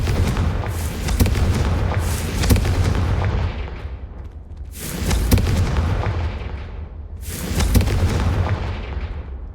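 Confringo spell explosions in the video game Hogwarts Legacy give three loud booming blasts a few seconds apart, each followed by a rumbling decay.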